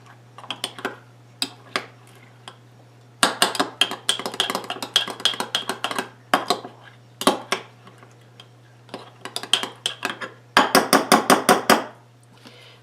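A spoon clinks and scrapes against glass jars while stirring keto overnight oats, coming in quick clustered bursts of bright taps with short pauses between jars, over a steady low hum.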